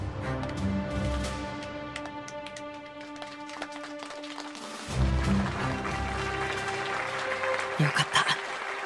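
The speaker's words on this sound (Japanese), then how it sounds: "一部の貴族以外はちゃんと拍手してるね" Audience clapping at an anime exam finals ceremony, under music and a brief sharp break, with applause swelling again after a short pause; continuous and moderately loud.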